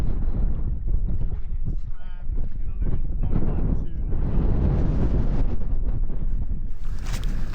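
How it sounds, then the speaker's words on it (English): Strong wind gusting along a lake shore in blizzard conditions, a steady loud roaring buffet across the microphone throughout, with faint higher whistling near the end. "Look at the wind gushing along the lake."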